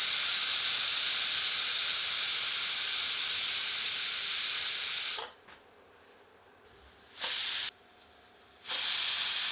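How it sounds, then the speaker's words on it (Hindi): A pressure cooker of goat curry on medium heat whistles loudly and steadily for about five seconds, then stops and gives two shorter shrill whistle bursts separated by near silence. "अब प्रेशर कुकर का ढक्कन बंद करके इसे मध्यम आंच पर रखकर 3 सीटियां लगा"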